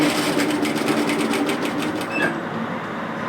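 Close, loud sewing machine stitching scrunchie fabric toward a corner, a fast, rhythmic needle chatter that runs steadily and then stops short near the end, leaving a quieter hum.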